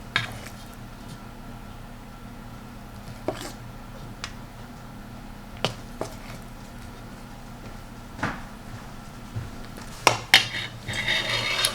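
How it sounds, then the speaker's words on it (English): A spoon stirring chocolate chips into cookie dough in a bowl, soft scraping with scattered light clinks against the bowl, fairly quiet and close, busier toward the end. "now I'm just going to stir those up"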